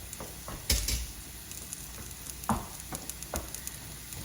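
Onions and jackfruit fry in a pan with a soft, steady sizzle, broken by several sharp scraping stirs and clatters, close and fairly quiet with no voices.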